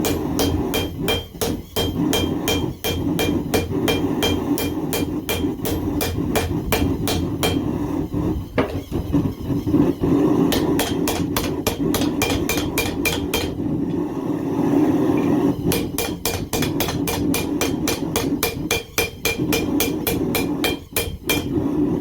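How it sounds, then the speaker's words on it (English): A hammer strikes hot metal in a rapid, steady stream of light, ringing blows while a knife blade is beveled, continuing for the whole stretch with only brief pauses. "I'm doing some pretty light little hammer strikes"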